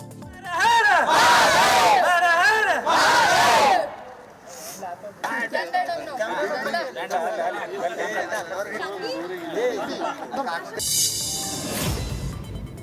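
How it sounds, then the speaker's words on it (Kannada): A crowd at the Kumbh Mela, including members of a family, chants praise to Lord Rama in loud, sustained shouted voices for several seconds, then breaks into busy overlapping chatter and crowd noise. "ಸಂತಸದಿಂದ ಪ್ರಭು ಶ್ರೀರಾಮನಿಗೆ ಜೈಕಾರ ಹಾಕಿ"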